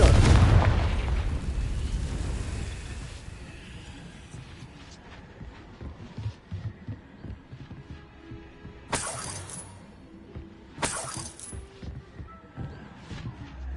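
Confringo fire spell blasting in a fantasy wizard game: one loud, booming explosion with shattering debris that slowly fades into scattered crackles, followed by two brief sharp bursts later on.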